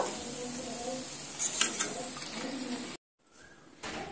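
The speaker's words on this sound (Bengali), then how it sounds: "একই তেলের মধ্যে ডিমগুলো ভেজে নেব" Steady crackling sizzle of boiled eggs frying in hot oil, loud and close, briefly cutting out near the end before resuming.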